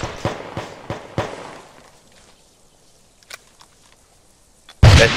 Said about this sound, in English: Watch out, throwing a frag!